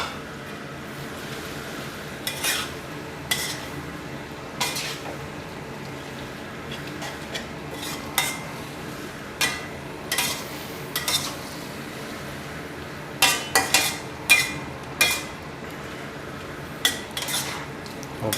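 Spicy pork ribs tossed with holy basil leaves in a wok, with repeated metal spatula scrapes and clinks over a steady low sizzle, close by and without voices.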